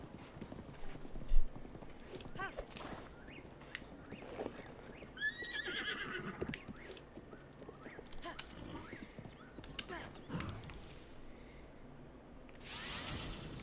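A horse in the video game Breath of the Wild gallops with steady clip-clopping hoofbeats and lets out a high neigh partway through, over quiet in-game ambience.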